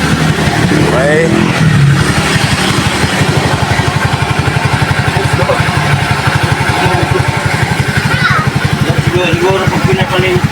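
A Suzuki Shooter 115 FI motorcycle engine idles close by with a fast, even putter that stays steady and loud, while someone talks over it.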